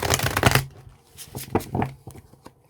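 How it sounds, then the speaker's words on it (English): Several quick bursts of large oracle cards being shuffled, a riffling rush followed by shorter flicks and taps, close and fairly loud. "these cards are so big, I can't shuffle them"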